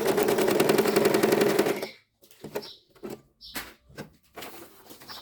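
A sewing machine stitches fabric during beginner practice: a steady, fast mechanical run for about two seconds stops abruptly, followed by scattered clicks and handling knocks as the needle and presser foot are adjusted.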